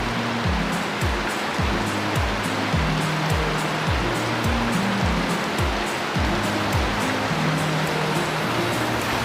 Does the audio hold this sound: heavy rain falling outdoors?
yes